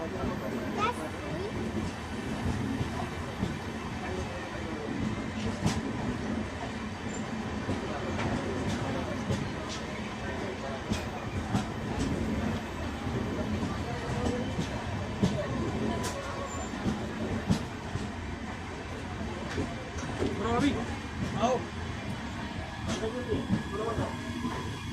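The Malwa Superfast Express passenger train runs along the rails, heard from on board as a steady rumbling, hissing ride noise with faint rhythmic clicks throughout, and someone talking over it.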